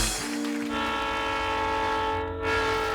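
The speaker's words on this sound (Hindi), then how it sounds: "वो ट्रेन की आवाज थी।" A train horn sounds steadily and loud over the rumble of a passing train, the blaring tone holding for nearly three seconds with wheels and carriages churning underneath.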